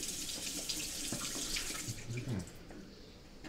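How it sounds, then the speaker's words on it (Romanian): Cold spring water pouring from a tap at a monastery on Mount Athos, a steady close splashing rush that eases slightly toward the end, with no talking. "Am dat de un izvor cu apă rece"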